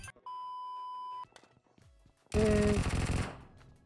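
Bursts of automatic gunfire in the mobile battle royale game PUBG Mobile on the Livik map, a sharp tone followed by a long, loud, dense volley at close range.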